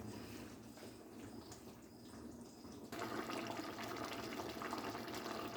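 Semi-cooked rice for mutton biryani being strained, water sloshing and then pouring out in a steady, fuller rush partway through, quiet and close with no talking.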